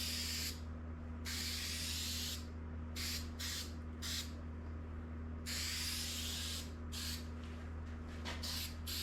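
A can of spray glue sprays in repeated hissing bursts of varying length inside an old truck interior, over a steady low electrical hum.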